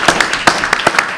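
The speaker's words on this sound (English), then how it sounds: "can we give a round of applause?" Audience applause at a school board meeting, a short run of several loud, distinct hand claps in an irregular rhythm, close and sharp, with no voices.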